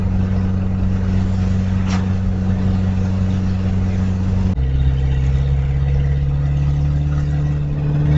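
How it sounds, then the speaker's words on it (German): A damaged car engine drones loudly and steadily while driving, a rough low hum that shifts pitch partway through as the gear or speed changes, with no voices. "Mit der Zeit wird der Lärm des Motors unerträglich."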